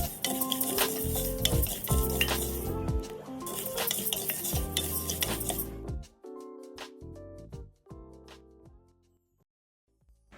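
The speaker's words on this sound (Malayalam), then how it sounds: "ഒന്ന് നല്ലതുപോലെ കളർ ചേഞ്ച് ആവുന്നത് വരെ ഒന്ന് വറുക്കണം." Rice is dry-roasted in a pan for rice balls, with a spoon scraping and clinking against the metal in uneven strokes over a light sizzle that fades to sparse, quieter stirring near the end.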